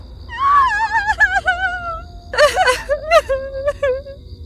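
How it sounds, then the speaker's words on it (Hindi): A voice sobs and whimpers in wavering, tremulous cries, pausing then breaking into shaky gasping wails, thin and slightly tinny from a car radio. "इस बार उसमें किसी औरत के रोने की आवाज आ रही थी।"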